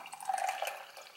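French press coffee is poured over milk and maple syrup as a soft, steady trickle of liquid lasting about a second, faint and close, with no voices.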